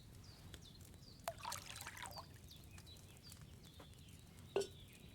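Wine poured from a pitcher into a cauldron in Kingdom Come: Deliverance 2: a short, soft liquid splash and trickle of about a second, followed later by a brief clink, over quiet ambient room noise.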